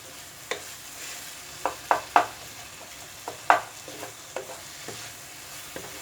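Tomatoes mashed while frying in a pan for a potato capsicum dry curry: a low sizzle under repeated sharp spatula scrapes and knocks, irregular and close, some louder than others.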